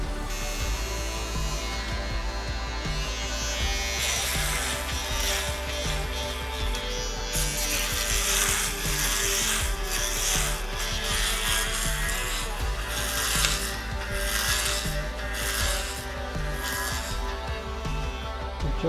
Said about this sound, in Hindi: ये सारे एरिया को शेव करने वाले हैं